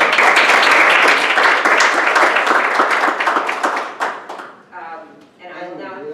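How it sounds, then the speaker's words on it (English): Audience clapping at a workforce development board meeting, a dense burst of applause that fills the room, then thins out and fades as a voice begins talking near the end. "I'd like to give Joe a big round of applause"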